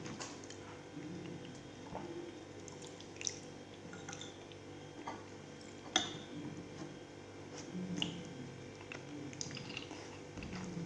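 Someone chews a mouthful of turkey neck soup at close range, with soft wet squishing and small clicks and ticks scattered irregularly over a quiet room.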